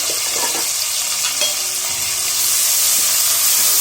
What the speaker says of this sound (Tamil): இஞ்சி பூண்டு பச்சை வாசனை போற வரைக்கும் வதக்கிக்கலாம்.